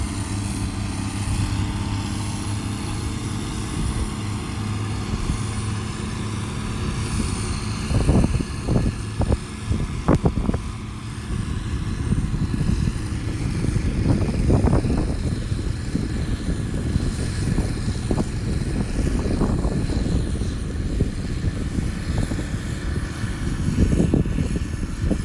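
A heavy pulling-tractor engine rumbles steadily throughout at a plow match, with bursts of louder revving and rattling midway and toward the end, fairly close.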